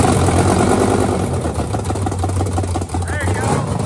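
A Mustang's engine idles steadily in a cheap car challenge, a low continuous rumble while people talk nearby over it.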